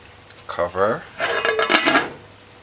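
A metal lid clatters onto a pot of coconut fish on the stove, with two short bursts of clanking cookware close by and no voices.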